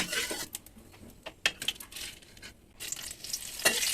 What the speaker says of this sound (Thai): เราจะทอดกะเพรากรอบก่อนนำใบกะเพรามาผัดน้ำมันแบบนี้นะคะ